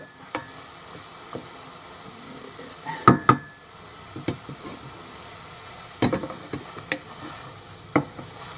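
Onions fry in a saucepan with a quiet, continuous sizzle, broken by scattered scrapes and clinks of a spoon stirring at irregular moments, near and without talk.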